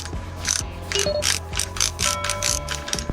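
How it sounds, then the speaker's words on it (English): Homemade tool working a tight center bolt on a VW T4 Syncro propeller shaft, a close, rhythmic series of ratcheting clicks, about six strokes in quick succession, no talk. "You could use this homemade tool to open this propeller shaft center bolt."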